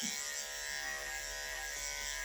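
Electric dog clippers run steadily while trimming a West Highland terrier's coat at a grooming session, a continuous close buzz holding even for the whole stretch with no voices.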